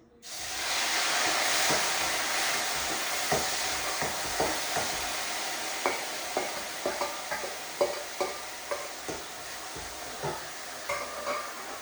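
Two finely chopped onions hit hot oil left from frying fish, bursting into a loud sizzle that settles into a steady hiss, with regular clicks of a stirring spoon against the pan.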